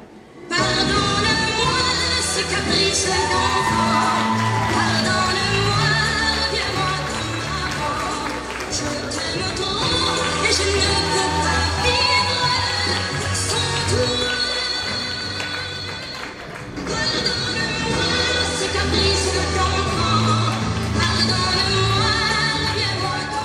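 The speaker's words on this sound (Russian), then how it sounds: "Еще раз бурные аплодисменты для специальности СТЭМ." Stormy applause and cheering from an audience at a student comedy show, a dense, loud and sustained wash of clapping that dips briefly partway through before swelling again to the end.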